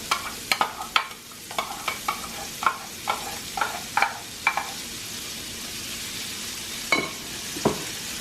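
Chopped medium yellow onion hitting a pan of hot butter and olive oil, with a soft sizzle under a run of close, rhythmic scraping clicks from stirring that slow and thin out toward the end.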